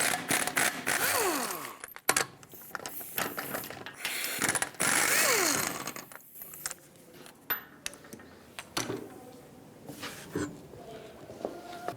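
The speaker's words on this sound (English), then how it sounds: "21mm socket, take all 5 of your lug nuts off," A ratchet fitted with a 21mm socket works the lug nuts off the rear wheel of a 1997-2001 Lexus ES300, with fast clicking pawl bursts, pauses, clanks and scrapes of loosened metal, close and in an irregular rhythm.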